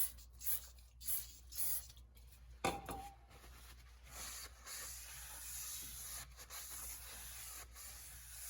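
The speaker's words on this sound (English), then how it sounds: "Now it's time to clean off the rotors with brake clean" A short hissing burst of brake cleaner sprayed onto a Fiat 500 front brake rotor, close and clear, followed by soft continuous rubbing and faint hiss from wiping the rotor surface.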